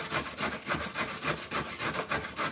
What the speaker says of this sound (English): I'm going to send carrot over there, and I'm going to use my grinder or grater.